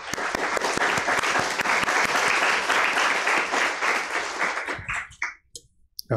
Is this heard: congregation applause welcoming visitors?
yes